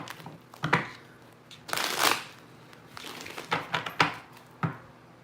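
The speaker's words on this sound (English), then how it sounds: "I'm gonna shuffle up a little bit more, y'all. Get these decks ready." Tarot decks are shuffled by hand in close, irregular bursts of riffling and card slaps separated by brief quiet gaps.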